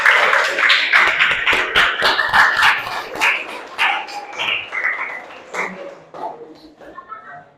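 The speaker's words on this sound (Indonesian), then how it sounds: "Tepuk tangannya dulu." Students in a junior high school English class clap hands in a rhythmic pattern, sharp repeated claps near and loud, thinning out toward the end, with voices mixed in.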